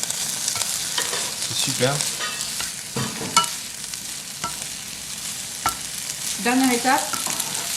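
Chicken frying and sizzling in a pan with garlic and ginger, stirred steadily with scraping strokes under a constant hiss, while people talk over it.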